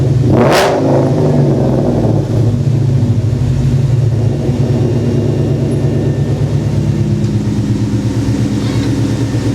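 Ford Mustang exhaust blasting out through quad tips: one sharp, loud rev at the start, then a deep, throbbing idle rumble close by that carries on steadily to the end.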